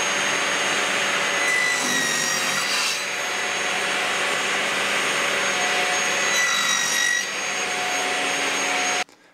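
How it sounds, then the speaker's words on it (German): Wood being sawn into widths for a dining table: a loud, steady, close rasping roar that runs almost unbroken for about nine seconds, with slight swells in the middle, then cuts off abruptly. "Ich habe jetzt mal zwei Breiten geschnitten"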